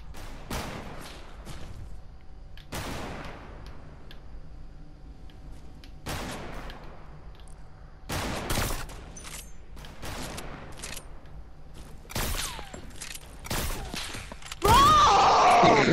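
Distinct gunshots ring out in a video game firefight, about eight or nine separate sharp cracks spaced a second or two apart with decaying tails, fairly quiet overall, ending in a louder noisy burst.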